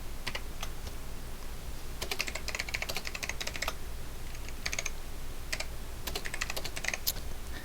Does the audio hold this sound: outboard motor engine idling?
no